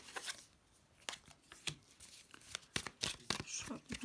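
Tarot cards are shuffled and drawn up close, making quick crisp rustling and flicking bursts in an uneven rhythm, fairly quiet overall.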